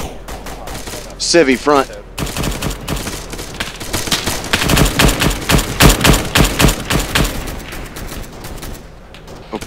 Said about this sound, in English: I just took fire from somewhere, not sure where.